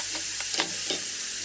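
Sliced guava with onion and garlic is stirred in a pan for ginataang bayabas, giving a quiet steady sizzle with two or three brief scraping stirs.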